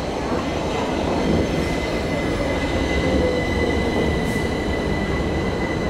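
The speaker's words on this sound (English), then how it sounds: "That's not our train." Train rolling past a railway station platform near Palma de Mallorca, a steady loud rumble of wheels on rails with faint squealing that lasts throughout, no voices heard.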